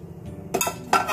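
A metal momo steamer tray set onto the bottom tray, giving two short clanks of metal on metal, close and fairly loud, after a quiet moment.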